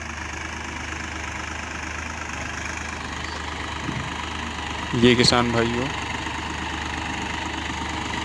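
A Massey Ferguson 9000 tractor, 55 HP with a three-cylinder engine, runs steadily at a constant drone while doing deep ploughing, with someone talking over it and a brief louder burst partway through.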